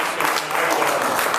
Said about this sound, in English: We just want to thank him and applaud him as well.